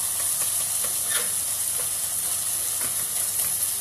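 Beef mince frying in a pan, a steady close sizzle with occasional scraping and stirring taps as it is broken up, no talking.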